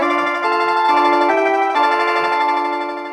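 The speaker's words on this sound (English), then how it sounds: "Anyone who wants to know what a mandolin sounds like, it will sound like this" An electronic organ plays held chords with a mandolin-style voice, its tremolo giving a shimmering, rapid flutter across several changes.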